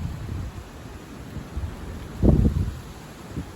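Strong southwest wind gusts in Melun, around 66 km/h and scattering leaves, rumble against the microphone as a low steady rush, swelling into one heavier buffeting burst partway through.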